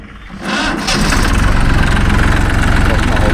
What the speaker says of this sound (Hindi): तो अब बैठ चुके हैं ट्रैक्टर पे और करते ट्रैक्टर स्टार्ट